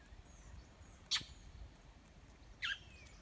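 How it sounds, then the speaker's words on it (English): Two sharp, high bird calls about a second and a half apart, like a mockingbird's harsh scolding notes, over a quiet outdoor background. "Oh, that was a mockingbird."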